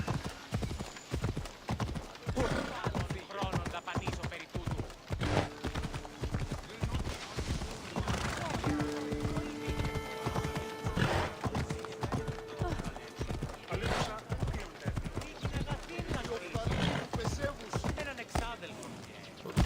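Rapid hoofbeats of a horse galloping in the video game Assassin's Creed Odyssey, a steady clip-clop rhythm running throughout with game sounds and a brief whinny-like tone in the middle.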